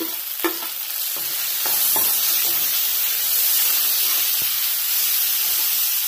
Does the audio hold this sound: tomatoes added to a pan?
yes